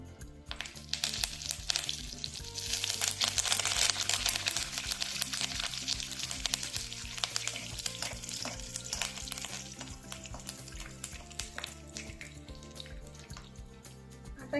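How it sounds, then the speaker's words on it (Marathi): Seeds and curry leaves crackle while frying in hot oil, a dense, steady spatter of small pops and sizzling that lasts the whole stretch, up close and alone. "असा तडतड आवाज यायला लागला की दाणे छान तळले गेलेत असं समजायचं"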